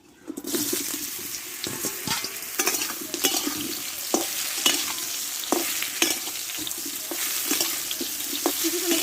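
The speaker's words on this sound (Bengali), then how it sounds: "এবার জল ধরানো আমটা আমি একটু ঢেলে দেবো" Water-soaked raw mango pieces poured into a hot frying pan with whole cumin, for a sweet-sour Bengali mango pickle, giving a steady loud sizzle with wet splashing and stirring clatter throughout, no talk.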